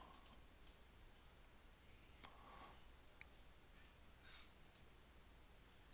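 Computer mouse clicks in trading software, a few sharp, faint, sparse clicks scattered over near silence.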